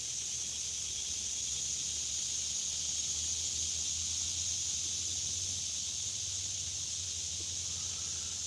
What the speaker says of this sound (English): I'm listening to the crickets